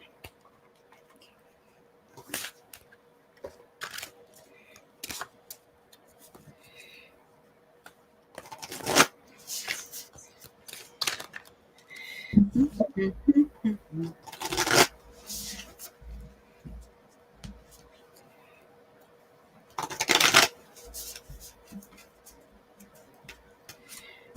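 A deck of Sacred Earth Oracle cards is handled and shuffled in several sharp riffles and soft ticking flicks spread across the stretch, close by, with some quiet background hum.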